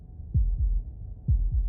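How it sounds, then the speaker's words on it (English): Heartbeat sound effect from the video game Slay the Princess: two pairs of deep, thudding low beats in a steady lub-dub rhythm, close and fairly loud with no other sounds. "That was the sound of a heartbeat,"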